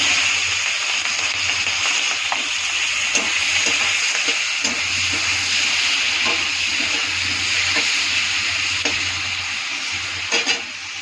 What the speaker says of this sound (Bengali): আমি শিমলা মির্চটা ভেজে দিচ্ছি এই একইভাবে।